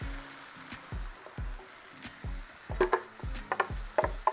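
Vegan korma sauce hits a hot pan and sizzles softly while a utensil scrapes and stirs in quick, repeated strokes that grow busier toward the end.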